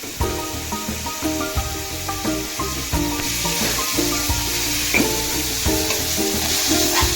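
Vegetables sauté in a hot pan, a loud continuous sizzle and hiss with repeated scraping and clinking as they are stirred, close up and without talking.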